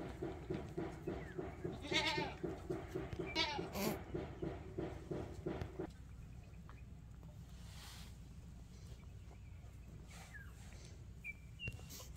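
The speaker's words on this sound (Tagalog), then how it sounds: "Ang laki nga ng kambing." Goats on a farm bleat right after a doe gives birth. Several loud, close calls come in the first half, and quieter animal and bird sounds carry on behind them.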